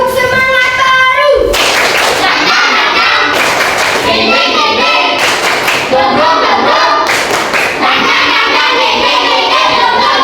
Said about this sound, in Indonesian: Tepuk semangat baru.